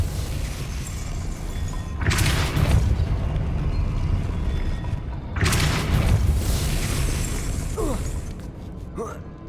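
A Depulso spell is cast in the Hogwarts Legacy video game, and two loud booming bursts hit a few seconds apart over a continuous rumbling game soundscape, with softer whooshes trailing after.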